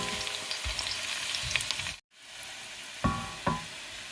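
Onions frying in a pan for chicken pulao, turning brown: a steady broadband sizzle that drops out briefly midway, then returns with two sharper stirring bursts near the end, close and fairly loud, no talking.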